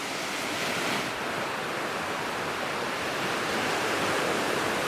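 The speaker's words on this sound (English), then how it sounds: "We are at the Thong Nai Pan beach." Ocean waves at Thong Nai Pan beach on Koh Phangan produce a loud, continuous wash of surf mixed with wind rumble, a steady rushing roar with gentle swells and no voices.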